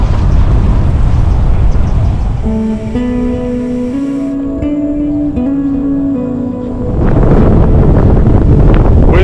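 Strong wind at Keem Bay on an ultra-cycling ride buffets the microphone with a loud, roaring rush, easing briefly midway while a faint steady tone sounds, then surging back.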